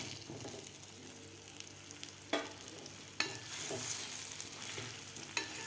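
Masala-stuffed ridge gourd being stirred in a pan of spiced curry masala, a steady low sizzle broken by a few sharp spoon scrapes and clinks, with no talk.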